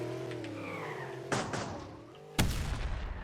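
Explosions in a racing game, a car engine droning and revving before two sharp, loud bursts about a second apart, each trailing into a rumbling decay.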